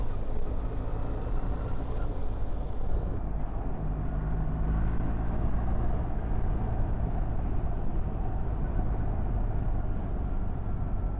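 BMW R1300 GS motorcycle riding steadily down a hill on bumpy roads, a continuous low engine drone mixed with wind rush, even and unbroken throughout.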